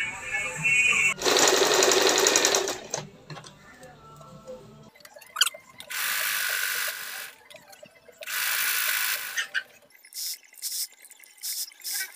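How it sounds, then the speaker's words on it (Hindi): A sewing machine stitches a readymade kurti in close, loud bursts of rapid whirring separated by pauses filled with small mechanical clicks and ratcheting as the fabric is repositioned. "शुरू में पक्की सिलाई लगानी है"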